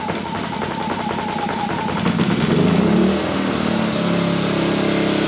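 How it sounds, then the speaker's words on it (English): Engel generator set engine on choke, starting up and settling into a loud, steady mechanical running drone with a brief swell in the middle, close by and with no talk. "Put her on choke, start her up"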